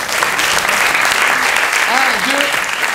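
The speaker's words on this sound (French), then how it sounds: "On peut les applaudir très très fort." Loud, dense applause from an improv festival audience in Paris greets volunteers joining the stage, sustained clapping with a few voices and whoops rising over it.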